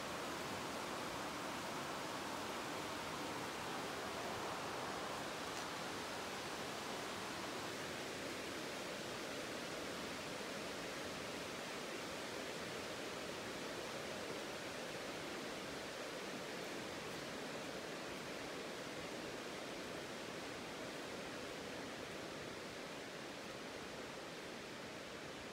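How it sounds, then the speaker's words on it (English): A river flows through the rocky Ken Lockwood Gorge far below the bridge, giving a steady, broad rushing wash that holds even and unbroken throughout. "The river being down there."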